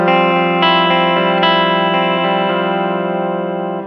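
Electric guitar through a Limetone Audio compressor with its gain knob turned up, a single sustained, thick chord ringing loud and close with a few light restrikes, slowly fading and with no talking.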